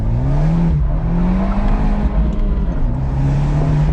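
An Abarth 124 Spider on springs and spacers drives with its engine droning loud and steady, the pitch rising and then dipping slightly, broad road and engine roar throughout with no talking.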